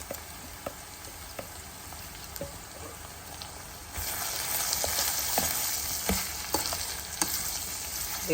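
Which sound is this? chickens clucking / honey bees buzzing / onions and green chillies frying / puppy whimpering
onions and green chillies frying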